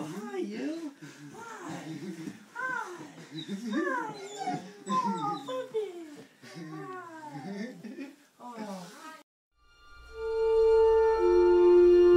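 An excited dog gives a run of high, rising and falling whimpers and whines while greeting a returning soldier, overlapping with people talking, before a steady electronic tone at the end.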